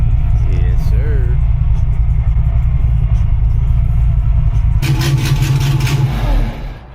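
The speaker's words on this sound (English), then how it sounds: "That car is so fucking loud." Loud twin-turbo Mustang engine rumbling nearby at a pre-dawn stop, a heavy low drone throughout that surges louder late on before cutting away, with people talking over it.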